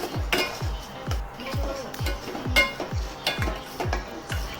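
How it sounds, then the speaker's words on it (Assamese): Rice stirred into masala in a pot for egg biryani, a regular series of about eight spoon strokes that scrape and clink against the metal, close and fairly loud. "ৰাইচখিনি এনেকৈ তলৰ মছলাখিনি লাগি যোৱাকৈ এনেকৈ লৰাই দিয়া হ'ল"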